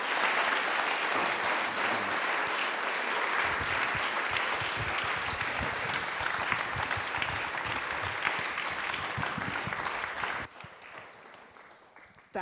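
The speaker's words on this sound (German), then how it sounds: "Ich glaube, das ist ein Applaus wert" An audience at a lecture breaks into sustained applause after the speaker is introduced, a dense, steady clapping that lasts about ten seconds before quickly fading out.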